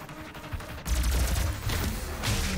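Gauss cannon firing in the video game Doom (2016), a heavy, booming energy shot followed by sustained roaring rumble and crackle, loud and close with no speech.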